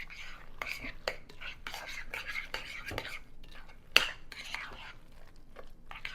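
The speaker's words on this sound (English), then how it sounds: "Okay, I'm going to go ahead and we're going to stir this around" Food is stirred around in a pan while salmon patties cook, giving soft scraping and clinking of a utensil against the pan in irregular strokes, with one sharper clack, under faint murmured voice.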